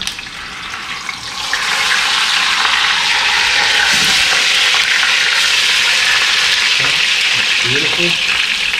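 A bone-in pork butt sears in a hot Le Creuset Dutch oven, sizzling loudly and steadily after it is flipped, with a few clinks of utensils and little else.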